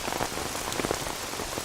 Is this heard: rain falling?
yes